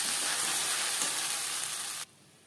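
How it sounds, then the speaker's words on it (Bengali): A tomato, ginger and green chili paste goes into frying panch phoron spices, setting off a steady, close, broadband sizzle that holds for about two seconds and then drops abruptly to a quiet low hiss. "20-25 সেকেন্ড ভেজে নেওয়ার পর দিয়ে দেবো টমেটো, আদা ও কাঁচা লঙ্কার পেস্ট।"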